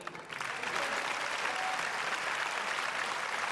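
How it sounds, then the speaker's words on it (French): A crowd at a magic show breaks into applause, a dense, steady clapping that swells within the first half second and holds close and loud to the end. "Sous les tonnes d'applaudissements de la foule"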